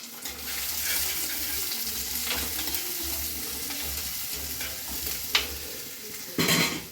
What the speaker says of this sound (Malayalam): നമുക്കതിലേക്ക് ആവശ്യമായിട്ടുള്ള ഉള്ളിയിട്ട് നന്നായിട്ട് ഇളക്കാം